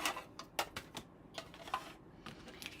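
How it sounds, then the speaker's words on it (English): A Stampin' Up mini cut and emboss machine runs paper through with a quiet, irregular series of clicks and ticks, like a slow ratcheting crank. "let me just come in with my mini cut and emboss"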